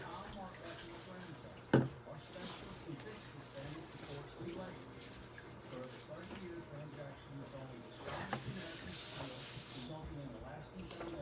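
A disinfectant wipe rubs down a cart and several individual containers at a lash application station. Soft, continuous rubbing and scuffing continues with a few light knocks, faint and close, while a voice talks over it.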